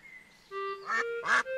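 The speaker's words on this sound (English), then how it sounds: "Ducks, what are you doing here? Are you hungry too?" Cartoon ducks quack twice in loud, nasal calls near the end, after a short held tone, close and clear with no speech over them.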